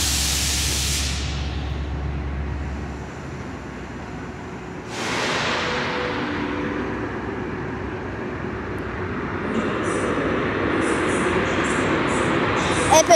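An Intercity Szyndzielnia train pulls into Wrocław Główny station, hauled by an EP07 locomotive: a broad rumble of wheels and rail noise builds and swells, with hissing bursts and a rising roar toward the end.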